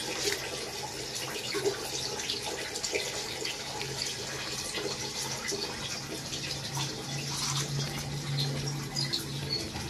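Water running from a tap as a dog is bathed, a steady close splashing stream with small spatters and handling sounds throughout.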